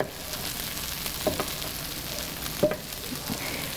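Onions frying in a pan over lower heat give a steady close sizzle, with a couple of faint stirring knocks.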